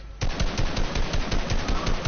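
Rapid automatic gunfire in a video game, a fast regular burst of shots, loud and close, alone without talk.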